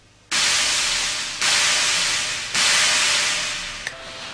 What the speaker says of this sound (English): Here is a noise sample on the Roland D50.